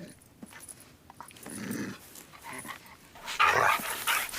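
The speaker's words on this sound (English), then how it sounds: "Get this dog out of here." A dog inside a room during a tense search scene makes short whimpers, low growling and a few sharp barks, moderately close, building in intensity toward the end.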